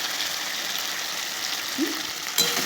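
Potatoes frying in hot oil in a pan make a steady, close broadband sizzle that holds evenly throughout, with one soft clink near the end and no talking.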